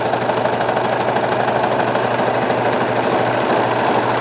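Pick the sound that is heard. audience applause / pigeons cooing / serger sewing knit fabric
serger sewing knit fabric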